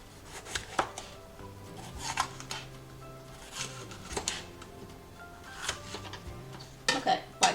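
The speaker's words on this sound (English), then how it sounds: "I'm going to chop these into big pieces." A knife chops bell peppers into big pieces on a cutting board, with irregular sharp knocks in small clusters, close and fairly quiet, with no talking.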